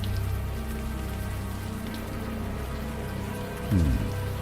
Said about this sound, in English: Now that it's out of the open air, the warm rain is coming down.